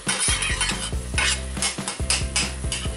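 Onions frying slowly in a pan for a canned-fish soup, a steady close sizzle with repeated scraping stirs and light clinks of utensil against the pan, with no talking.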